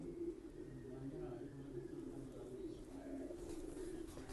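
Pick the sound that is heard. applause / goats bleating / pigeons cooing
pigeons cooing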